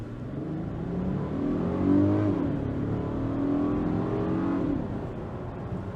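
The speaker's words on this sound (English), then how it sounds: "a little bit better and faster acceleration" A 2022 VW Atlas SEL Premium R-Line SUV accelerates, its engine note climbing and shifting in a smooth, continuous drone heard from inside the cabin, with the pitch rising, dipping briefly and rising again.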